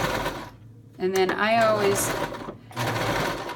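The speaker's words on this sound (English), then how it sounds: "you're never supposed to back a sewing machine" A sewing machine whirs in rapid stitching bursts, briefly backstitching in reverse, with a person talking before and after.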